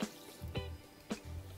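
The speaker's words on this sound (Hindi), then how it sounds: "मैंने यहाँ पर 1 कप चीनी में डाला है 1/2 कप पानी" Water is poured into a pan of sugar to make syrup, producing soft splashing and dripping in a few short bursts, quiet and close, with no talking.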